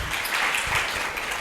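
Dense, steady applause fills a hall after a talk at a panel session on democratic alternatives, sustained clapping from a sizable audience heard close and loud throughout.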